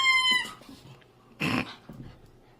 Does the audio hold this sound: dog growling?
yes